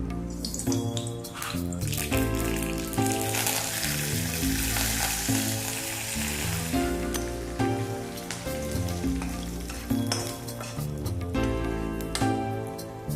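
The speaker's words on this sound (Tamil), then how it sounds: "கடுகு கருவேப்பிலை தாளிக்கும்" Hot oil sizzling and crackling as mustard seeds and curry leaves are tempered, with music playing underneath.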